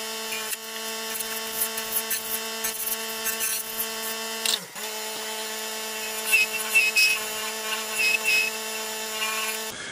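Steady tonal whir of a wood lathe spinning an off-center turned jewelry box as it is sanded and polished, with a constant hum and rubbing friction, a brief dip near the middle, no talking.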